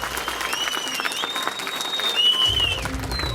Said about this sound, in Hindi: तो जोरदार ताली बजाकर